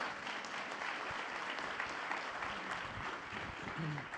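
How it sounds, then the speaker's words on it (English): A conference audience at an education and technology summit applauds steadily, a dense even wash of clapping heard from some distance, with faint voices mixed in. "Everybody give Gary a round of applause."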